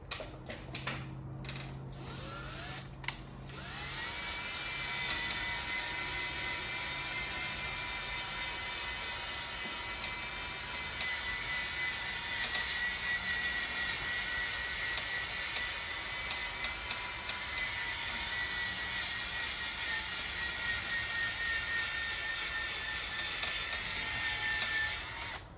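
A few sharp clicks give way to a long, steady mechanical whir of a power tool sanding a plastic headlight on a 2004 Dodge Ram with sanding discs, constant and close, with a high whine throughout.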